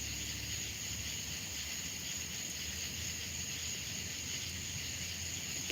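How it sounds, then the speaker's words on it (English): A constant, high-pitched chorus of insects chirping steadily outdoors late at night in Arkansas, faint and distant with a soft hiss underneath and no voices. "You can hear the bugs outside."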